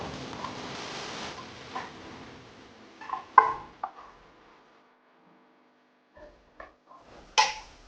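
Spoon stirring chicken for Kerala-style chicken chukka in a pot, followed by a lid set down on top, heard as a few clanks and scrapes over a soft sizzle that fades to near silence, then a final sharp knock.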